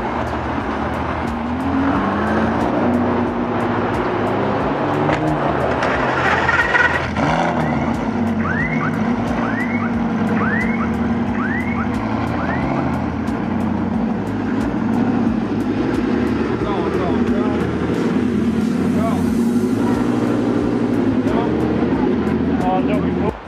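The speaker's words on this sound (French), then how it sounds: "On va même avoir un start-up de la Gallardo" A Lamborghini Gallardo starting up on a Paris street, its engine catching and settling into a loud, continuous rumble that carries on steadily, with voices nearby.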